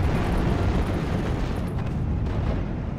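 A Flak 88 anti-aircraft gun fires in a Normandy 1944 battle, a dense continuous roar of blasts and rumbling explosions with no pauses, loud and close.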